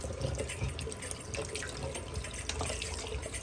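A bathroom sink faucet runs steadily into the sink, a soft continuous splashing hiss at low volume with faint clatter.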